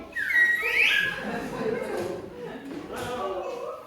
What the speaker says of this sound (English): Ah, Swanee whistle.